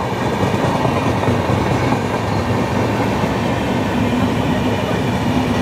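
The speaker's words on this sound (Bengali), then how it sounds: "ইন্ডিয়ার longest running train Dibrugarh Kanyakumari ভিবেক express Shaktigarh থেকে পাস করছে" The Dibrugarh–Kanyakumari Vivek Express passes close by at Shaktigarh, making a loud, continuous roar of rolling wheels and rattling carriages that lasts the whole time.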